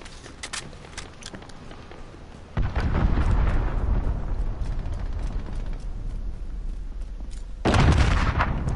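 Cruise missile strike in Call of Duty Modern Warfare: a sudden loud explosive impact followed by sustained rumbling debris and roaring, then a second heavy blast near the end, preceded by sparse gunfire crackle.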